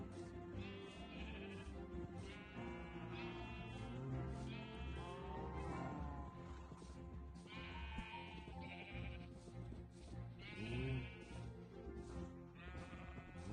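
Minecraft sheep bleat repeatedly in wavering, nasal calls that overlap one another steadily over a continuous background.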